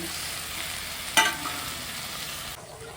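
Okra curry sizzles steadily in a hot pan, then tomatoes drop in with a brief sharp hiss and splash before the frying sound carries on and drops away near the end.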